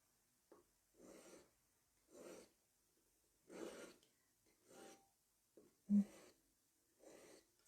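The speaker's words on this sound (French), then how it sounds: "Je nettoie mes facettes en enlevant les traces de lime" Hand filing of the facets on a handmade wedding ring in a jeweller's workshop: slow, regular rasping strokes, about eight separate passes with pauses between, close and fairly quiet.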